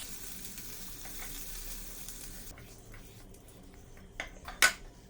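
Capsicum frying in a pan while cooking Afghani paneer, a soft steady sizzle that quiets partway through, followed by a couple of sharp clinks near the end.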